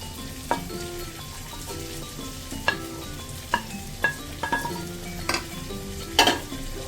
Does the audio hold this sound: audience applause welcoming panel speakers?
no